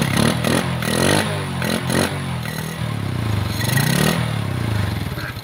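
A Honda XRM 125 motorcycle engine, freshly reassembled with new clutch plates and oil, fires after a kick start and runs with a loud, close, rattling idle and a few quick revs.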